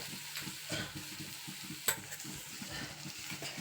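Green chilli and turmeric being stir-fried on a low gas flame, a soft, quiet sizzle broken by repeated scraping stirs, with one sharp clink of the utensil midway.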